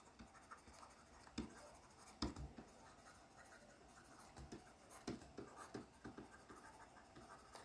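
A pen scratches across paper in quick, irregular strokes, jotting notes on an accounting topic about share and debenture finance, fairly faint and close with no voices.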